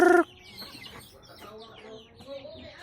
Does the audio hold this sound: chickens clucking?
yes